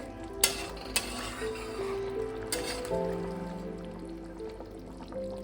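A spoon stirs garam masala and ghee into Bengali-style dhokar dalna made with mung dal dhoka, with a few sharp clinks against the pot, then soft scraping and bubbling for several seconds.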